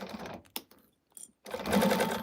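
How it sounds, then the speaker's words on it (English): A sewing machine back-stitches bag straps in short bursts, stopping and restarting before running steadily near and loud to the end; the project is a Primavera bag by Shamballa. "I am back stitching on my straps."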